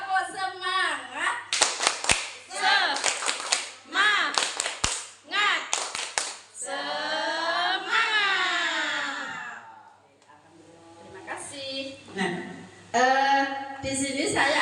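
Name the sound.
group clapping a 'spirit clap' rhythm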